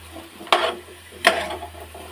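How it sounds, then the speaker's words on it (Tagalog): Colourful mixed vegetables with garlic get stirred in a pan, two distinct scraping strokes about three quarters of a second apart over a faint background hiss, close and moderately loud. "Haluin lang natin siya"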